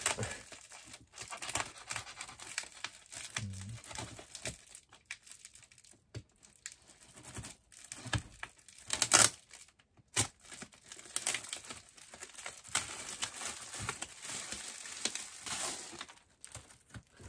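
Plant parcel packaging is cut open with soft crinkling, rustling and snipping, faint and close, in irregular bursts with short pauses.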